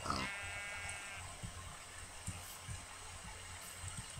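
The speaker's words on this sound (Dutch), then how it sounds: "Ik hoor een varken, heel dichtbij." Grunts and short snorts of a pig in the Minecraft video game sound close by, starting with a brief tonal cry and continuing as quiet rhythmic snuffles over a low steady background.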